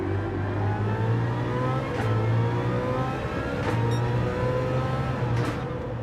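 A race car engine in the racing game Gran Turismo 7 drones loudly and steadily throughout, with its revs rising and falling in a sustained, close engine tone and no talking.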